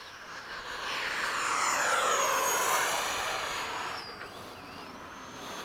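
An FMS 70mm F/A-18 model jet with an electric ducted fan taxis on the ground, a steady whooshing whine that swells over a couple of seconds and then eases back, heard alone.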